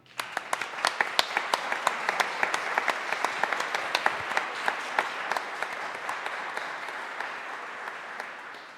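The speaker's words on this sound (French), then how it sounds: "Nous pouvons maintenant l'applaudir." Applause in a church after a baptism during an Epiphany Mass, steady clapping from a congregation with sharp individual claps standing out, moderately loud and sustained throughout.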